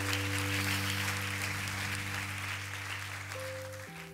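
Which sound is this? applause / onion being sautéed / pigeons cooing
applause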